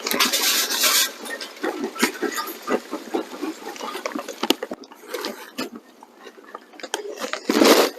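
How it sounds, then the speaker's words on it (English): Charcoal being loaded into the charcoal basket of a Lone Star Grillz offset smoker, a series of close, clattering rattles and knocks of lumps tumbling against metal, with a louder pour near the start and end. "let's go ahead and get the charcoal in the basket"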